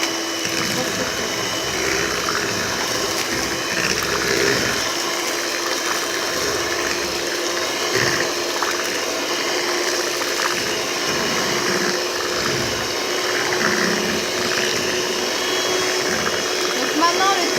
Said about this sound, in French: Et vous rebattez avec le batteur.